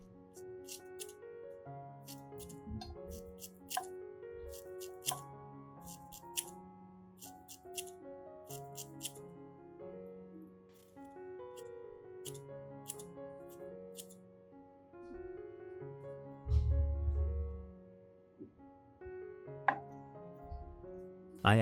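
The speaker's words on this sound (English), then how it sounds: "Then, I cut the peels into small, manageable pieces." Banana peels are cut into small pieces, likely with scissors, in a sequence of soft, crisp snips scattered over soft background music, with a louder bump near the end.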